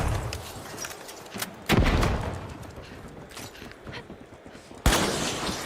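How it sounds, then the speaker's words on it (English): A frag grenade lands in a video game and goes off in two sharp, loud blasts a few seconds apart, each with a ringing tail. Faint scattered gunfire and clatter fill the gaps between them. "Tossing a frag."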